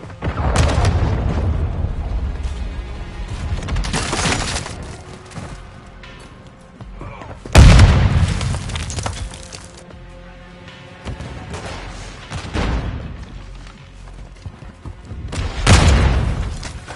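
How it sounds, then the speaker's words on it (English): Heavy booming explosions from cruise missile strikes in a Call of Duty game, three big blasts with rumbling tails spread across the span amid continuous battle noise. "Hostile cruise missile incoming!"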